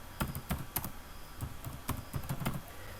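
A computer keyboard is typed on while code is written, with soft, scattered keystroke clicks over a low background hiss.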